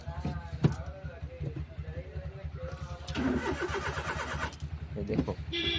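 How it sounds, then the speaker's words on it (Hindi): Maruti Alto petrol car being cranked without catching: a steady rhythmic starter churn repeats through most of the stretch, moderately close, with a louder burst of cranking midway and a person talking over it. "सेल मारने के बाद भी चालू नहीं हो रही है।"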